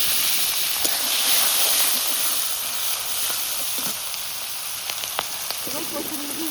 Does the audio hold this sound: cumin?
yes